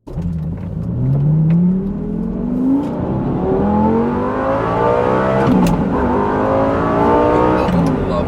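A mid-engine Italian manual sports car fitted with a Fab Speed X pipe exhaust pulls hard through the revs, its loud, raspy note climbing steadily, then dipping at a shift before climbing again, heard up close.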